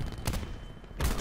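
Two sharp gunshot bursts ring out in Call of Duty Black Ops 4 during a sniper flick shot, close and loud, spaced under a second apart against low background noise.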